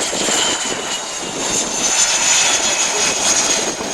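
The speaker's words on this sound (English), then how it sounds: "they're going to do a flyby here as they get ready to head back to Oceana" Carrier air wing combat jets of CAG 17 make a flyby, a loud, steady roar of jet engines that swells slightly and holds throughout, with no voices.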